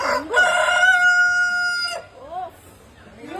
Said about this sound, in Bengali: গ্রামের কি মুরগি ডাকছে